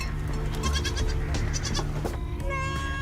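Goats bleat nearby, with several wavering, nasal cries rising over a steady low background, loud and close.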